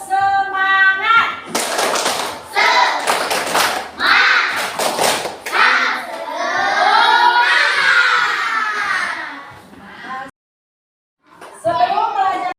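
Schoolchildren in a classroom perform a rhythmic spirit clap, loud bursts of clapping mixed with chanting and shouting voices, then a brief pause before more clapping.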